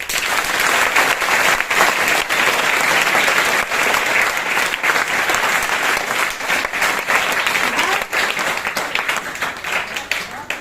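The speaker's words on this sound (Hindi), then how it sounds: "तालियां होनी चाहिए।" Sustained audience applause at a Teachers' Day celebration, a dense, loud wash of many hands clapping steadily for about ten seconds with crowd noise mixed in.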